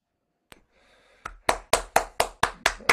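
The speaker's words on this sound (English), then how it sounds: "give Joe a big round of applause." Sharp hand claps over a video call, first a single clap, then a steady run of about eight loud, evenly spaced claps, somewhat thin and close.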